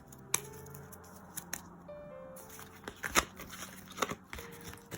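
Tarot cards, a deck of power stone cards, being cut and handled, giving soft, sporadic snaps and card flicks with brief papery rustles at a quiet, close distance and no talking.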